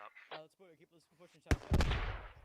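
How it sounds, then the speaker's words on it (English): Frag round fired in the Squad military game: someone talks first, then a sharp loud shot cracks out, followed by a second burst and a rolling, echoing boom that lingers. "Frag round goes out to where Nihols would have been."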